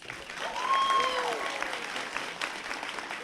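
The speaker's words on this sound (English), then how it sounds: "Again, let's applaud for Tiara Childress in her absence" Audience at a 2022 graduation ceremony at Creators Academy applauding an absent student, a dense burst of clapping with children's voices and chatter mixed in, swelling early then holding steady.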